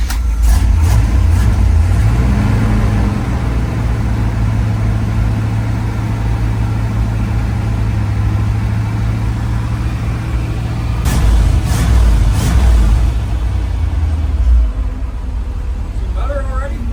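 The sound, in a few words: 1978 K-30 dump truck engine running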